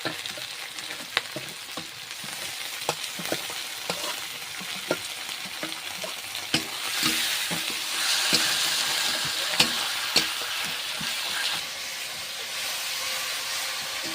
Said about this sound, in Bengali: এবার রসুন বাটা দিয়ে দিচ্ছি তারপরে আদা বাটাটাও দিয়ে দিচ্ছি